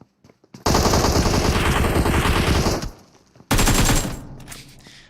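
Rapid automatic gunfire in PUBG Mobile, a loud sustained burst of machine-gun fire for about two seconds, a brief lull, then a second loud burst that tapers off.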